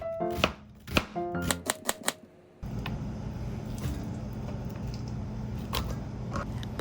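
Knife chopping an onion on a cutting board for doenjang stew, a quick run of about ten sharp, close cuts followed by a steady, denser scraping and slicing texture.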